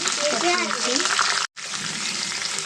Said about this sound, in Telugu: ఉల్లిపాయలు కూడా బాగా ఫ్రై అవ్వాలండి